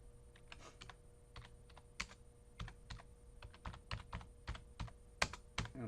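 Steady clicking of keys being typed on a computer keyboard, quiet and close, with irregular bursts of keystrokes and no talking.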